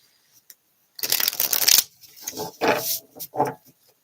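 Several quick riffling bursts of tarot cards being shuffled up close, separated by short pauses.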